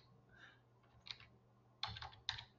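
Keys on a computer keyboard are tapped in a few quiet, close clusters of clicks with pauses between them, while a software form is being filled in.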